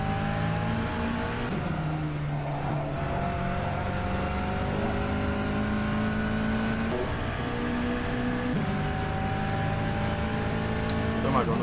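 Porsche 963 LMDh prototype in rFactor 2, engine drone steady and continuous throughout with tyre noise beneath, gear shifts shifting the pitch, someone talking over it.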